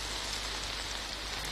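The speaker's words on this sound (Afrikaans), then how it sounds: "Tot die reën ophou." Rain falling steadily in a dense, even hiss, a constant wash of drops with no voices and no change in intensity from start to finish.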